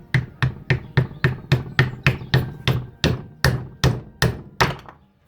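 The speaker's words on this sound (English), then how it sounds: "Again, nylon hammer." A nylon hammer taps a part into place during repair work on a 1980 Land Rover Series 3 109, about sixteen firm, evenly spaced dull knocks ringing close and loud, then silence.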